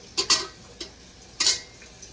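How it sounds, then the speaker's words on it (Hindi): Ginger garlic paste is stirred into frying onions in a pan, with a few short scraping strokes of a spoon against the pan over a faint, steady sizzle. "अभी लहसुन अदरक का पेस्ट डाल देंगे। प्याज हो चुके हैं,"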